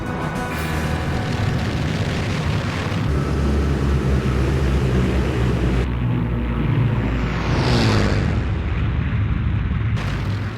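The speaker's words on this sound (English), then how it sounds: "On the 23rd of August 1942, aircraft of the German Luftwaffe began a colossal aerial assault on Stalin's city." German Luftwaffe aircraft in a massive 1942 aerial assault on Stalingrad: a continuous loud roar of engines mixed with heavy booms and blasts, with no talking.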